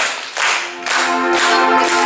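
A church congregation claps in a steady rhythm at a worship service, while the singing of a hymn carries over the clapping.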